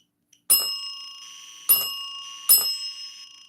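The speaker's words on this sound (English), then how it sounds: "Can you press the bell again?" A small bell in a house during a paranormal field investigation rings three times with bright, metallic dings, each decaying slowly before the next, heard up close in an otherwise quiet room with no talking.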